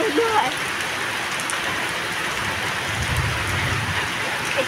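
Steady rain pours down across flooded Guwahati, a dense, even hiss of drops that runs unbroken through the whole stretch, with a faint low rumble of water beneath.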